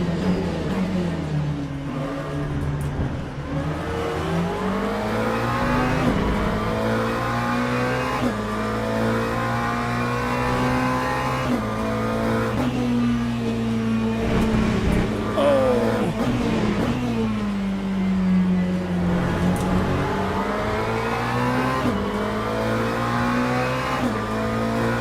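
McLaren GT3 race car in the Le Mans Ultimate racing game, engine droning loud and continuous as revs rise and fall through gear changes, with faint tire noise and no talking.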